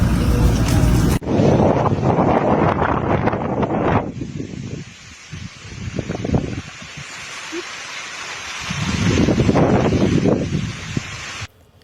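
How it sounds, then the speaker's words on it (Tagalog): Strong outdoor wind buffets the microphone in loud, rumbling gusts that swell and ease over several seconds. "Grabe, sobrang lakas ng hangin guys."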